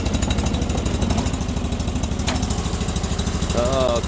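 A tractor engine chugs steadily just after starting, close and loud with a fast, even knocking pulse, while a person talks briefly near the end.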